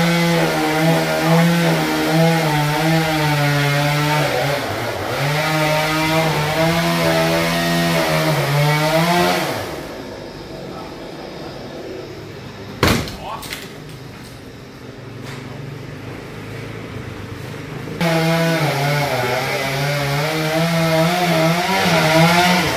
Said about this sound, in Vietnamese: đang chuẩn bị cái máy cưa lớn lên để cưa cái hoành cây